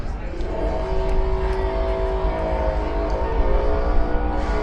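Drag racing cars run at Santa Pod Raceway during a Festival of Power event. Engines rumble and rev in a loud, steady wash with a rising tone in the middle, and an announcer's voice is faintly present underneath.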